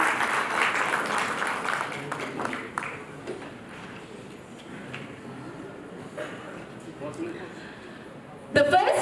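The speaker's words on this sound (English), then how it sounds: "Come on, they deserve a huge round of applause." Applause from the audience at a pharma awards ceremony, loudest in the opening seconds and then fading to a softer patter under background murmur, with a sharp noise near the end.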